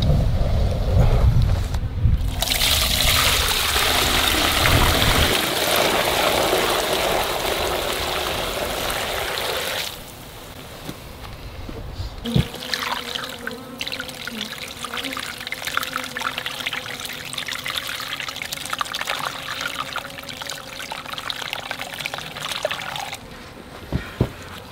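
Hot melted beeswax pours and drains through a screen, a steady loud liquid rush that thins after several seconds into a continuous trickling stream with faint clinks, heard close and without talk.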